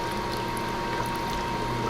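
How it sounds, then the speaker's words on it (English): Warm water pours steadily into an Eco Viva slushie machine, giving a continuous, fairly loud rushing splash with no talking. "I'm just putting warm water in here."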